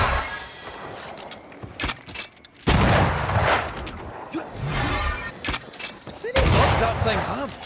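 Gunfire in the video game Find Seeker rings out in several loud, sharp bursts spread across the scene, mixed with other game effects and background sounds.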